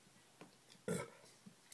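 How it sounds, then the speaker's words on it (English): A single short, fairly quiet burp erupts over a hushed indoor background, with a few faint small noises around it. "I burped."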